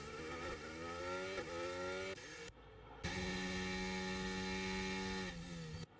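Several race cars in a sim racing game pull out of the pits at Monza, engines droning and revving steadily with clear shifting pitch, loud and continuous with a brief dip midway.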